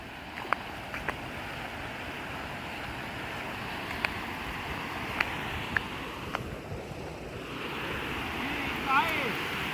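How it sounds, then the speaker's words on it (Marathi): A river waterfall rushes in a constant, loud roar, with a few faint clicks and knocks over it. "आणि मस्त धबधबा आहे"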